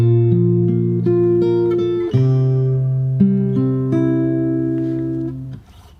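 A bar of a song on fingerstyle guitar, with sustained low bass notes under ringing plucked upper notes, a few sparse picks and a bass change midway, played alone and close, fading at the end.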